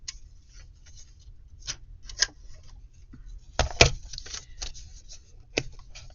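Paper being cut into 3-inch pieces for a paper bag craft: a scattering of close, crisp snips and rustles at uneven intervals, with a denser pair of cuts midway, and no talking.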